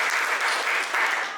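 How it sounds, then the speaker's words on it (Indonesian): Short burst of indoor audience clapping during a university teaching presentation, steady and moderately loud, tapering off at the end. "Luar biasa, beri tepuk tangan dulu."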